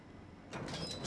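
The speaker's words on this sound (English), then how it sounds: "I'll open up the door for you" A door in the video game Quantum Break opening partway through, a mechanical sliding rush with a hissing, whirring sweep that rises suddenly after a quiet half-second and holds steady to the end.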